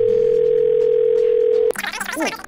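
A steady, loud telephone dial tone hums alone for under two seconds before it cuts off and a voice starts talking close up.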